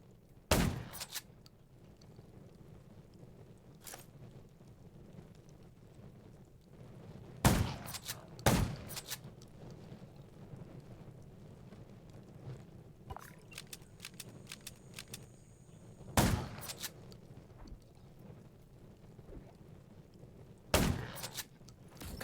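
Sporadic gunshots in the survival shooter game Undawn, a handful of sharp, isolated cracks spaced several seconds apart over a low rumbling ambient bed.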